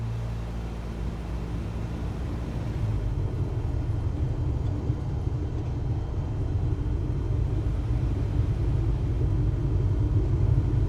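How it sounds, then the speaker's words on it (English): Steady low engine rumble of an aircraft close by in Microsoft Flight Simulator 2024, growing louder after a few seconds and holding a constant drone to the end. "I can hear an aircraft really close."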